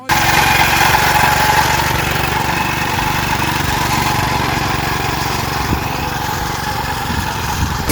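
A walk-behind tractor with a mower attachment running, a loud steady engine drone with a continuous buzzing rattle throughout, close and unbroken, with no talking.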